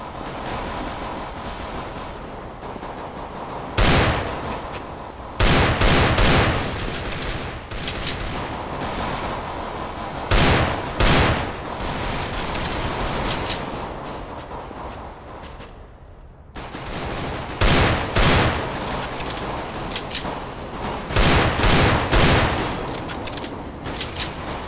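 Desert Eagle pistol fire in CS:GO, heavy single shots arriving in scattered clusters of two or three over a steady background bed, loud and close with short gaps between bursts.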